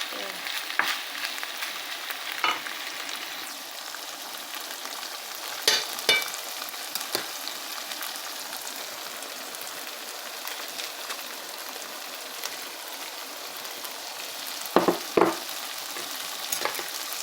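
Rice stir-fried with garlic scapes in a pan over high heat gives a steady, close sizzle and frying hiss throughout, broken by a few sharp scraping clatters of stirring near the start, middle and end.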